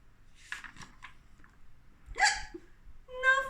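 Cartoon-style hiccups from a cat character, a few separate short bursts spread across the span, fairly close and clear over a quiet background.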